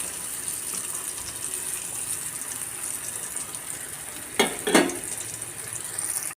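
Thattai rice crackers deep-fry in hot oil with a steady, even sizzle throughout, broken near the end by two brief stirring clatters.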